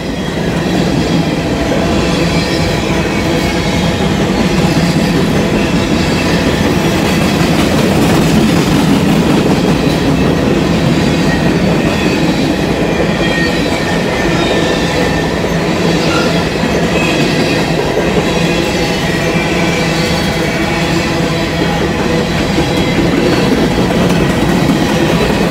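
A long BNSF freight train led by a heritage-livery locomotive rumbles steadily past at close range, wheels clattering and occasionally squealing on the rails, loud and continuous throughout.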